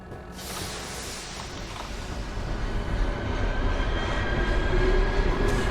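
A train rolls past in the video game Trainslation, a dense rumbling and rattling that grows steadily louder as it approaches, with no talk.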